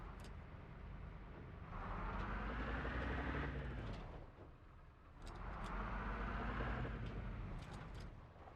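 Two military jeeps in ArmA Reforger rise from a distance and pass close by one after another, each engine swelling to a steady roar and then fading, heard from the roadside without talk.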